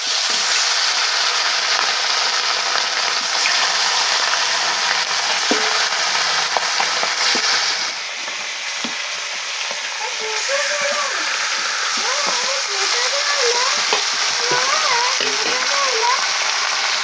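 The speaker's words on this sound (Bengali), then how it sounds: "তেলেই চিকেনটা রান্না করে নেব।" Chicken fries in oil in a kadai for a village-style family biryani, a loud, continuous sizzling crackle throughout, with a voice speaking briefly over it in the latter half.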